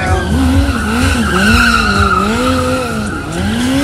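A motorcycle tire skidding during a freestyle drift at a stunt event in London, a loud sustained squeal with a wavering pitch over engine noise, lasting nearly the whole moment.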